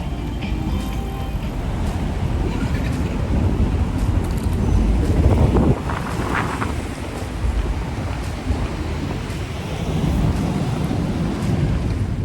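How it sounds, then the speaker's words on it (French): Strong gusts of wind buffet the microphone in a constant roar, swelling louder midway before easing and rising again. "Il y a du vent dans tous les sens."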